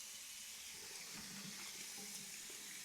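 A bathroom tap in a renovated Chicago house runs with strong pressure, giving a steady, even hiss of flowing water that stays constant throughout, close and unbroken, with no voices.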